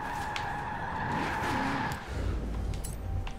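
A car drifting in Forza Horizon 4, tuned for drifting and sliding through a drift zone: sustained tire squeal over engine drone, then a lower rumble takes over, loud and close.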